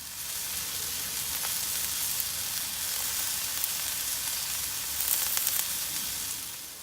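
Food sizzles as it starts cooking around the outside of a Weber Mastertouch kettle grill, a dense, even frying hiss close by with faint crackles and no voices.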